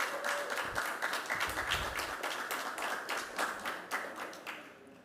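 A modest audience at an investigative journalism prize event claps in a fairly quiet, loosely spaced round of applause that thins out toward the end, with a faint murmur underneath.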